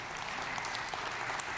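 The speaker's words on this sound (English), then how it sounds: "Yeah, you can applaud for that." Steady, dense applause from an audience at a church gathering, a continuous wash of many hands clapping with no single claps standing out.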